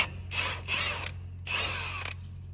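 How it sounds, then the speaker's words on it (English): A hand ratchet clicks away on a 12mm brake line bracket bolt on a Toyota 4Runner's front suspension arm, two close, steady runs of quick pawl clicks with a short pause between them. "I'm going to remove the bolt for the brake line bracket that hooks onto this arm right here"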